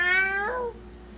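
A person's voice imitates a cat's meow, a single drawn-out, falling nasal cry that is close and clear, then trails off into quiet.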